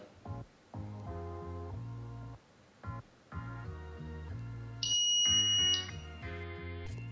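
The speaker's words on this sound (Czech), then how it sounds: "má ten zvukový lokátor, díky kterému je jeho tón slyšitelný na vzdálenost až 300 metrů" A dog GPS collar's sound locator emits a loud electronic beeping tone in uneven bursts with brief gaps, switching to a higher shrill pitch partway through.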